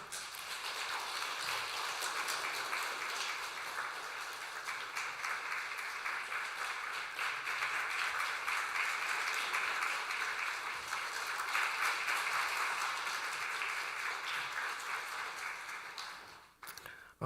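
Sustained applause from a church congregation during a Sunday service, steady and fairly even for over fifteen seconds before tapering off abruptly at the end.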